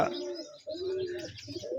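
Rajshahi Giribaz pigeons coo and warble at a pigeon farm, overlapping calls rising and falling in steady, close, fairly loud phrases with no talking.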